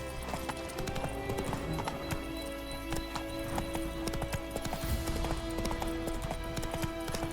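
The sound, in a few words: horse galloping hooves, from video game The Witcher 3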